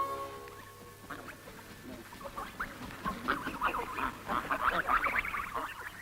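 A flock of geese in an animated cartoon honk and call repeatedly, growing louder and busier toward the end, against a low steady hum.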